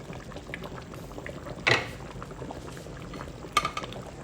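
Oha soup with cocoyam bubbles in a covered pot, a soft steady simmer with two brief louder clinks or splashes.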